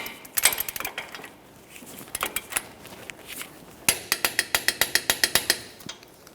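A ratchet-style torque wrench clicks in rapid even bursts while tightening the outer tie rod mounting nut on a 2004-2008 Ford F-150, one quick run followed by a longer series of crisp close clicks.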